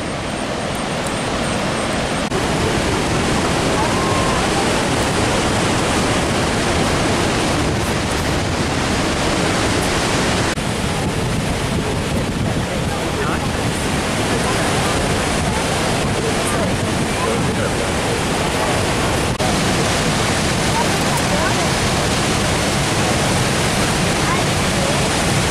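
Niagara Falls roaring on the Canadian side near the Horseshoe Falls and the turbulent Niagara River, a loud steady broadband rush of falling water that continues without pause throughout.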